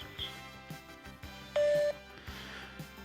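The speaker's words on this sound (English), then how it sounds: "Do so after the beep." A single clean electronic beep sounds briefly over a faint, busy background, like a voicemail tone signalling to start recording.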